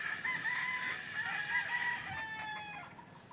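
Farm hens cluck and a rooster crows repeatedly, the calls near and clear over a steady outdoor background with no talking.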